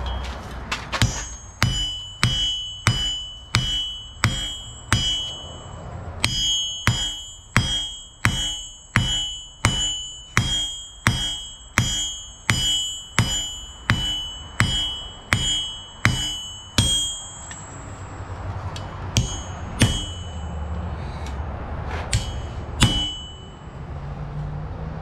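A lighter hammer strikes hot steel being forged into a throwing axe, a long run of evenly spaced ringing clangs near the anvil, then a few scattered blows and shuffling noise.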